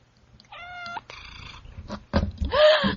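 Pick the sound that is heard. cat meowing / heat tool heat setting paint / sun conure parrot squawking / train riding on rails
cat meowing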